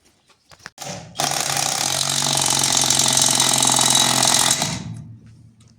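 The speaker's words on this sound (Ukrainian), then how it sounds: "А ну откручуй, ще закручуй." A threaded part being unscrewed and then tightened, a continuous loud mechanical whirring and rattling like a power tool that starts abruptly after a couple of brief knocks, runs steadily for about three and a half seconds, then stops.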